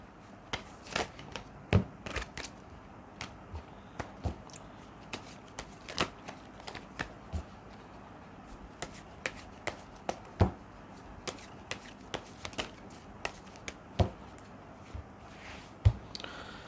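A deck of oracle yogic path cards is shuffled by hand close up, producing a string of sharp, irregular papery snaps and flicks over a quiet room.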